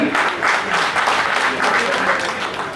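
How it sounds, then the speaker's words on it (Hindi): Audience applause at an electronics dealer meet, a dense sustained wash of many hands clapping together across the whole stretch, steady and fairly loud with a faint murmur of voices underneath. "एक बार तालियां हो जाए दोस्तों"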